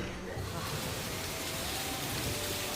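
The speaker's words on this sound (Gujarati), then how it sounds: "વરસાદની હજી શરૂઆત જ થઈ છે." Rain begins during a sudden storm with lightning and strong wind, heard as a soft, steady hiss of falling drops spread evenly across the whole moment, fairly faint.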